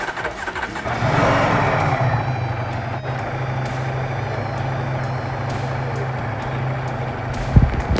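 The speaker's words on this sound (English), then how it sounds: "For that, we'll start the bike and explore." A 2025 Ducati Panigale V4 motorcycle engine cranks and fires up, then settles into a steady, loud, close idle with a low drone that runs on without a break.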